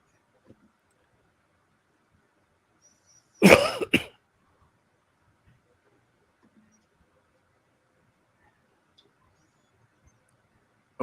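A person coughs once, a short close double burst in an otherwise near-silent room, with faint clicks scattered before and after.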